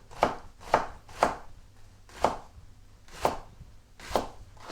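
Radicchio, red chicory, sliced thinly with a knife on a board, making about eight crisp, evenly spaced cuts, close and clear with no talking.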